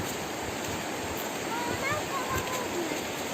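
Fast, swollen river water pours in a continuous broad roar, near and even in level, with a faint voice barely audible under the flow.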